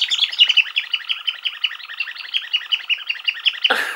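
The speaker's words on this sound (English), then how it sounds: "inside there is where you shake the Snuggle Bum and it squeaks" A vintage 1980s Snuggle Bum toy's shaken squeaker mechanism gives a rapid, continuous bird-like chattering of high chirps, close and fairly loud, ending in a short rustle.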